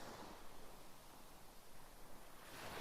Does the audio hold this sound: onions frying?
no